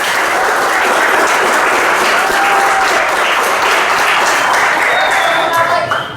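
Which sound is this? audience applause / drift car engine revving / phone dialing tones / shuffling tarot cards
audience applause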